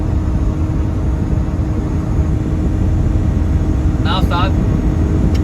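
Tuned car engine on a track in Multan drones steadily and loudly at sustained speed, a dense constant roar with a brief voice speaking near the end.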